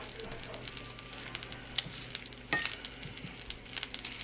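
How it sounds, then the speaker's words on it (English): Minced garlic frying in hot bacon grease, a steady close sizzle and crackle with a few sharper pops and stirring scrapes, the frying noise continuous throughout without talk. "when it hit that bacon grease and started frying up"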